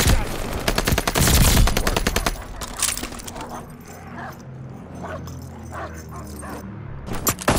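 A Vargo-S assault rifle fires loud, rapid automatic bursts in a video game, a dense stream of shots up front, then scattered single shots and echoes, with another burst at the end.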